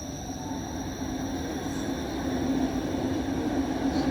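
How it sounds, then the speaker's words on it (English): A westbound Toronto Eglinton LRT train on Line 5 runs through an underground station, giving a steady rolling rumble with a faint wheel whine that builds slightly as it passes, with no talking. "there goes the westbound train"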